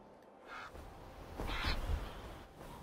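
A raven in Assassin's Creed Valhalla gives a couple of hoarse caws at moderate distance over a steady ambient game background, with no talking.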